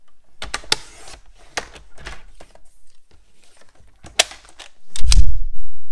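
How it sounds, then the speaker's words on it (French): Paper is cut for a scrapbook mini album in a series of sharp, dry clicks and snips, scattered and close, ending in a heavier thud and rustle. "Il faut couper 2 cm."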